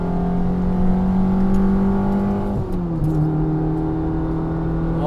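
A 2002 Fiat Palio 1.0 Century with a short gearbox, its small engine held at a steady loud drone that dips briefly as a gear is shifted, then settles to a new steady pitch, with no voices over it.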